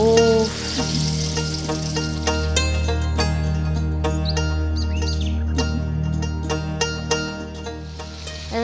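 Shol fish (snakehead) fries in hot oil for a bhuna with yam, a continuous close sizzle with sharp crackles and spits and faint chirping tones in the background.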